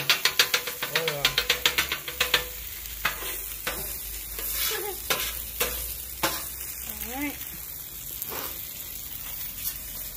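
Caramelized onions for smash burgers fry on a hot cooking surface with a continuous sizzle. A spatula scrapes and taps in a quick run at the start, then more sparsely, while voices talk over the cooking.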